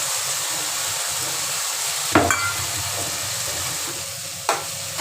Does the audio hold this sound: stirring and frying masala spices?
yes